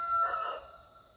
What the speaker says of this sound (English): we got the roosters out this morning